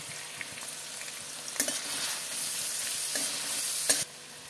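A steady sizzle and frying hiss as spices are stir-fried in oil with cauliflower, potato, tomato and green chillies, close up, with a couple of sharper scraping strokes of the spatula against the pan.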